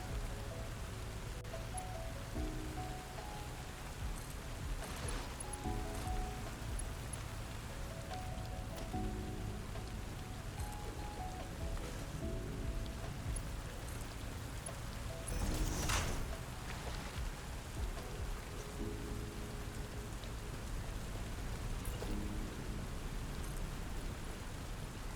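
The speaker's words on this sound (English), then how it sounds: "Nice rainy day today" Steady rain falling in the video game Satisfactory, a continuous wash of close patter and drips running throughout, with faint repeated tonal game sounds layered underneath.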